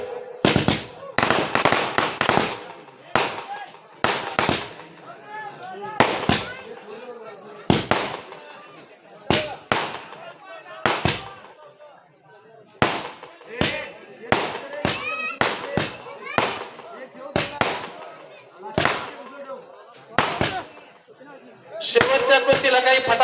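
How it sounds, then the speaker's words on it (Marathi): Firecrackers burst at an outdoor village wrestling match, a rapid series of loud sharp bangs in clusters throughout, with an announcer talking between the explosions. "शेवटच्या कुस्तीला काही फटाके बाकी ठेवा."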